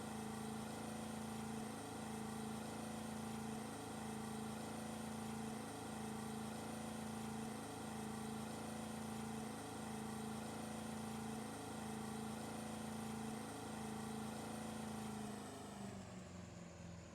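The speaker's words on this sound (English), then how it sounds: "I can hear the sound loop they used for the engine." A steady, low boat engine drone from the video game Russian Fishing 4 repeats in a mechanical loop, quiet and unchanging until it shifts slightly at the very end.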